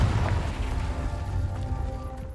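A Confringo blasting spell in a Harry Potter game lets off a low boom that decays over a couple of seconds into a fading rumble, with a faint ringing tail and no talking.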